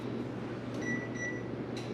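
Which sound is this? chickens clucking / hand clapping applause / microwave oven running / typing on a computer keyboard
microwave oven running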